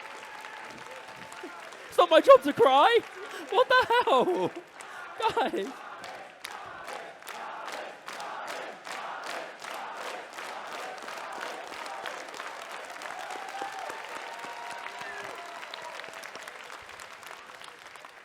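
Audience applause and cheering at the grand final of an osu! 1v1 tournament, with loud excited talk and shouts at first, then steady clapping that carries on alone with a rhythmic pulse.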